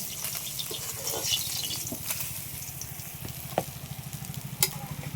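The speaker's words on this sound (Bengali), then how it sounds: "একইভাবে সব মাছগুলো ভেজে নেব" Close, continuous sizzling of rohu fish frying in mustard oil, with rapid crackling pops and a few sharper spatters or utensil taps over the steady hiss.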